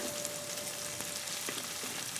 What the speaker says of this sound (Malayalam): ഇന്ന് കടുകിൻ്റെ ഒച്ച കേട്ടു